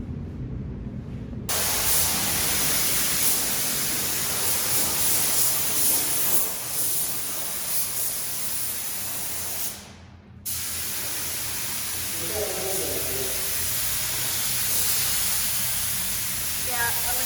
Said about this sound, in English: Just going to be spraying the jams, and then like in this Bondo area, stuff like that. Spraying it inside, the roof, all that.